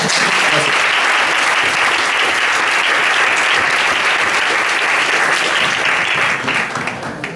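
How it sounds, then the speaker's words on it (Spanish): Audience at an engineering event applauding everyone present, a loud, dense, sustained wash of clapping that carries on for several seconds before tapering off at the end. "un aplauso para todos ustedes"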